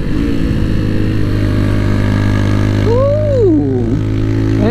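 A Keeway RKV 125 motorcycle with a Yoshi exhaust revving uphill: a loud, close, steady engine drone that rises in pitch, dips and climbs again.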